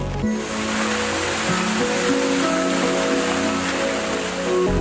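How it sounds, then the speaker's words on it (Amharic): Rain falling outdoors near a spot where a eucalyptus tree once stood, a dense, steady hiss of drops on surfaces that stays loud and even throughout, with no voices. "ምን አው ዝናብ መጣ"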